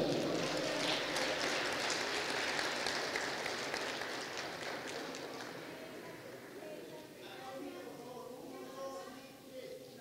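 Warm applause from an audience at a formal conference ceremony for Evo Morales, a thick burst of clapping that gradually thins and fades, with voices and murmuring emerging underneath toward the end.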